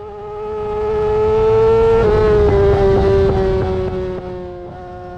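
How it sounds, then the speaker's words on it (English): On a racetrack, a sportbike's engine holds a loud, close, steady buzzing note, and a quick throttle blip on a downshift makes the pitch jump and waver briefly before it settles. "you can hear me blip the throttle"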